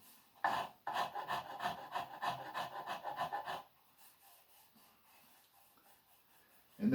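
A woodworking rasp with fine and coarse teeth scrapes chair wood in a run of quick rhythmic strokes, close and fairly loud, then stops, leaving near silence.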